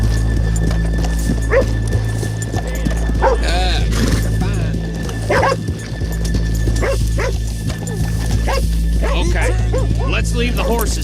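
In Red Dead Redemption 2, horses neigh and hooves clop close by, with dog-like barks mixed in and voices talking over the scene.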